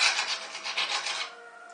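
A serrated knife saws through an apple to quarter it, giving a close, gritty rasping crunch in several quick strokes that fade off at the end.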